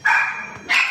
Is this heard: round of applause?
no